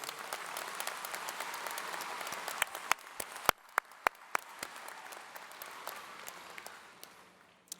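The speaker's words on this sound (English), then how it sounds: "can we give the Board of Trustees a round of applause?" Sustained applause from a college commencement audience honoring the Board of Trustees, dense clapping throughout with a few sharper, louder individual claps standing out near the middle before the sound tapers slightly at the end.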